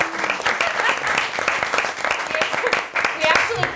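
A room full of people applauds at a school committee meeting, dense steady clapping that holds for the whole stretch with a few louder claps standing out.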